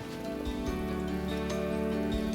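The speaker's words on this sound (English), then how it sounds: "it's pouring down" Heavy rain pouring down outdoors in the Malvern Hills countryside, a steady close patter of drops on surfaces with a continuous hiss and no voices.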